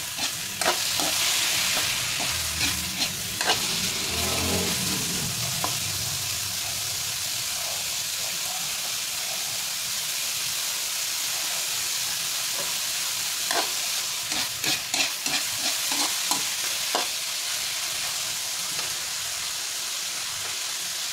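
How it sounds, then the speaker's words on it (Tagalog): Bean sprouts are stir-fried in a pan for a lumpia filling, with a loud, continuous sizzle and hiss overlaid by bursts of scraping stir strokes near the end. "Ikot-ikot ulit."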